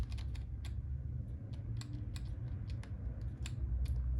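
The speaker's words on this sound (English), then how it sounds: "we're gonna go F1 if my wireless keyboard would want to work" Keys on a wireless computer keyboard are tapped in quick, irregular clicks, close and distinct, while a Lenovo ThinkCentre M900z desktop boots, with a low steady hum underneath.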